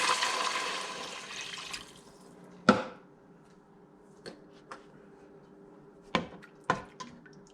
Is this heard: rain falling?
no